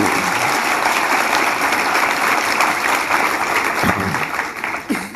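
A large convention crowd gathered for a bishop's address claps in a dense, continuous wash of applause that holds steady, then thins slightly toward the end. No speech is heard over it.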